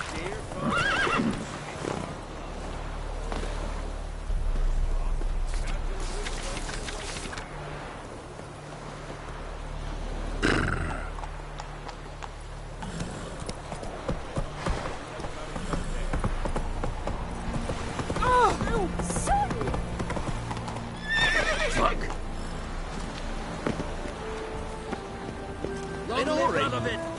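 Horses in The Villager 3 whinny and neigh amid steady clip-clopping hooves, the sounds rising and falling over a long stretch while people talk throughout.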